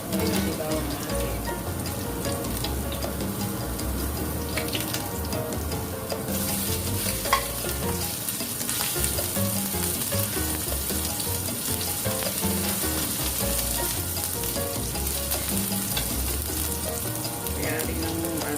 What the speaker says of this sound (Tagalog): Hamuin natin yung bawang natin.